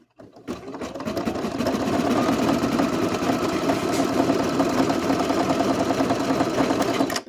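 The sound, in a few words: sewing machine stitching lace trim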